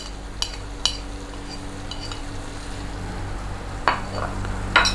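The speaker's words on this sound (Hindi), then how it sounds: "इसके साथ 2-3 मिनट भूनेंगे।" Powdered spices with tomato paste are stirred and roasted in a pan over a low, steady sizzle, with a few sharp scrapes of a spoon against the metal.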